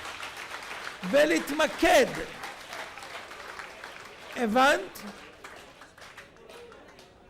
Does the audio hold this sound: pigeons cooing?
no